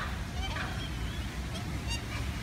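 Birds honk and gobble while being chased outdoors on the Gold Coast of Australia, with repeated harsh calls over steady rumbling background noise.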